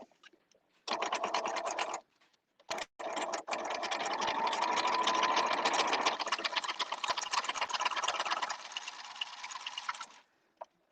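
A sewing machine stitches quilt block pieces, close and steady, with a rapid mechanical needle rattle running in a short burst, a brief stop, then a long continuous seam before trailing off.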